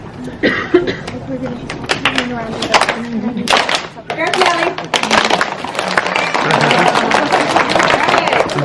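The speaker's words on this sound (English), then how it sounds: "All right, and then the firecracker clap." An audience at a charity fundraiser does a firecracker clap: scattered, uneven claps and stray voices build into a dense, rapid, continuous roar of clapping that holds steady to the end.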